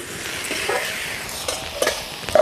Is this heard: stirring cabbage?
yes